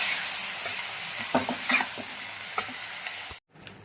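Mixed vegetables for veg pulao, including peas, cauliflower, carrot and green chillies, stirred in a hot pan with a steady sizzle and a few scraping clinks of the spoon, close and without talk.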